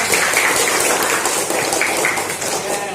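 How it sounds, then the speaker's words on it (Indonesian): Applause for a student in a sixth-grade classroom, a steady dense patter of many small hands clapping together, fairly loud and sustained for a few seconds with no voices over it. "tepuk tangan untuk Meda."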